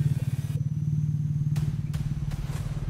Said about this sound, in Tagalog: May mga motor ba? May mga motor.